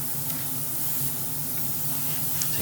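Steady high-pressure airbrush hiss spraying paint onto the interior of a Hasegawa Lancia 037 Rally model car, constant and close with no break.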